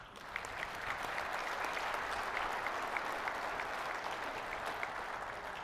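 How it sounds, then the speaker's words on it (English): A conference opening ceremony audience gives a steady, sustained round of applause, many hands clapping evenly and fairly distant, with no talking over it. "Please join me in giving a round of applause for our gold sponsors."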